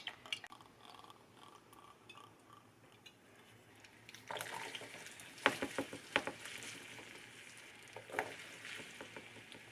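Diced potatoes hitting hot oil in a non-stick skillet, a quiet pan hiss swelling into crackling sizzle with a few sharp clinks and scrapes of stirring.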